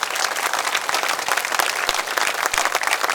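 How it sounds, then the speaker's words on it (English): Steady, dense applause from an outdoor crowd at a public speech rally in Hong Lim Park's Speakers' Corner, continuous clapping filling the whole stretch with no voices over it. "Please give them another round of applause for coming up here."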